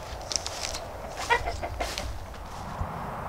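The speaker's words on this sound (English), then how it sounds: "there's some chickens over there" Chickens cluck in short scattered bursts, a few birds at moderate distance over a quiet outdoor background.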